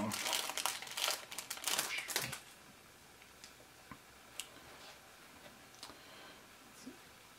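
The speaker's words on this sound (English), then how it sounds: "let me clean the lenses off, again with our high-tech cleaning glass here" Cloth rubbed over the lenses of Homido VR glasses gives a close crinkling, rustling burst for a couple of seconds, followed by quieter sparse ticks and small handling clicks.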